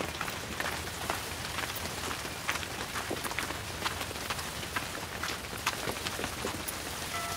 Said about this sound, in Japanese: 天気良ければいいんだけど、雨と風でしんどいです